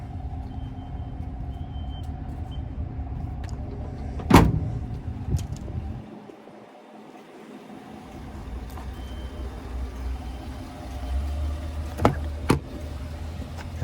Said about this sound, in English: And there's your one-touch tailgate.